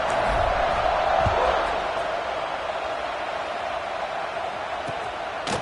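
Football stadium crowd buzzing after a score, a steady roar of many voices with a brief swell at the start that settles into a continuous hum around kickoff.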